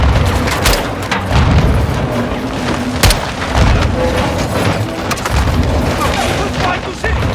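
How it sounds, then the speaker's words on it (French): Heavy grenade explosions in a video game battle near trees and a rooftop, loud repeated booms mixed with gunfire, with voices talking over the combat. "Il lance des grenades!"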